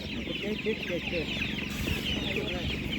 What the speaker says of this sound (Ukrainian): ось такі курочки по 100 гривень